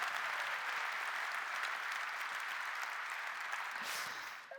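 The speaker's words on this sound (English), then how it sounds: "Yes, that's worth an applaud" Steady applause from a large audience at an aerospace company's hangar presentation event, sustained and even for several seconds before tapering off at the end.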